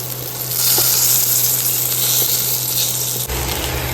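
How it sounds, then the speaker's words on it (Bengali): Pointed gourd (potol) slices fry in hot oil in a pan in a home kitchen, with a steady loud sizzle that holds throughout and dips briefly near the end, with no talking. "খাওয়ার আগে গরম গরম পটল ভাজা ভেজে নিয়েছি।"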